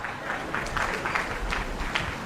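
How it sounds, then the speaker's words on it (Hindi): A seated audience at a motivational talk breaking into applause, a diffuse wash of many hands clapping at an even level throughout, steady and moderately loud without a clear beat. "ये देखो कुछ भुक्तभोगी ताली बजा रहे हैं"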